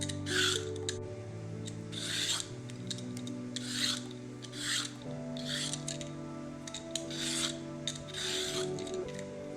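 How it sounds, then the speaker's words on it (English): Rhythmic rasping strokes of a peeler scraping along carrots, repeated about a dozen times at a steady pace, close and clear over a low steady hum. "Start by peeling the carrots, top and tail those."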